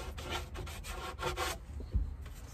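Sandpaper is rubbed by hand over the wooden edges of a wardrobe built inside a cargo camper van, a close, raspy back-and-forth scrubbing in bursts that ends with a soft knock.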